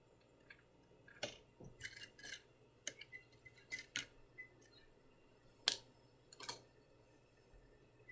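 Scissors snip a French seam allowance on fabric, a series of short crisp cuts in uneven bursts, close and quiet, with faint clicks between them and no talking.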